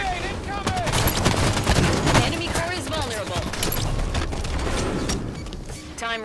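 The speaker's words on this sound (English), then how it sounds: "Enemy grenade incoming!" A Halo 5: Guardians multiplayer match with an enemy grenade explosion and constant rattling gunfire in a dense battle mix, with voices from the game under the shooting.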